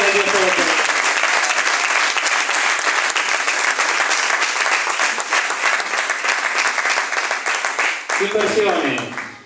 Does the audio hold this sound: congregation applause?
yes